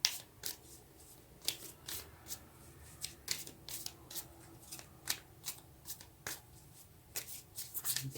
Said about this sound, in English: now let's take a clarifying card, or maybe two